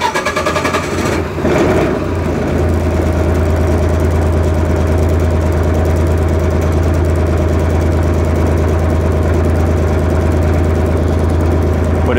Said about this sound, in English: it's gonna go through its idle up, and I'm gonna let it warm up a little bit